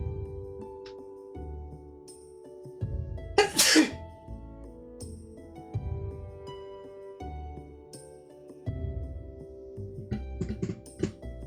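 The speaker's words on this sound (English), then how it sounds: "I gotta sneeze." A single loud, sharp sneeze bursts out mid-stream, apparently turned away from the microphone, amid soft game music and occasional keyboard clicks from a Graveyard Keeper play session.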